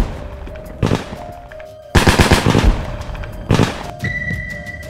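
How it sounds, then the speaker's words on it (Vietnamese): Bursts of simulated enemy gunfire during military training, loud rapid volleys of shots in several clusters with sharp booming onsets and ringing tails, no talk. "Nào, hỏa lực địch bắn."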